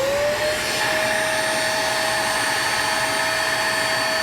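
A vacuum cleaner runs steadily, sucking ash out of a Vogelzang VG5790 wood pellet stove, a loud close whine with a constant high tone that rises briefly at the start as suction builds.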